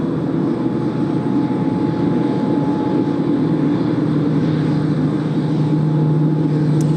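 A Japan Airlines Boeing 767 rolls for takeoff on Haneda runway 16R bound for Osaka Itami, its jet engines a loud, steady roar with a sustained whine held throughout, no voices.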